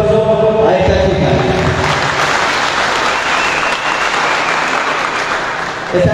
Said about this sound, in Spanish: que dar un fuerte aplauso a esta chica